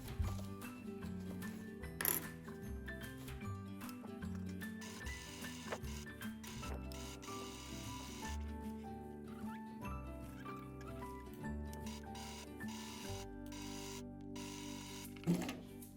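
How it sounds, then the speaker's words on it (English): A sewing machine stitching handles onto a fabric scripture case bag, with a steady mechanical whir and clatter running throughout and a couple of louder knocks, close and moderately loud. "Let's sew these in place."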